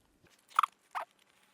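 Someone bites into a crispy air-fried quiche with a crunchy crust, making two short, crisp crunches about a third of a second apart against an otherwise very quiet background.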